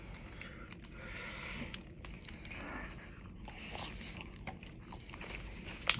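Someone chews a Taco Bell rice and cheese bean burrito up close, with soft, wet biting and chewing noises, one sharper crunch near the end, and no talking.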